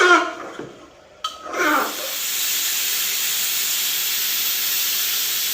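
Meat with boiled taro sizzles in a hot pan, a loud, steady frying hiss that settles in after a brief spoken word and a clatter at the start.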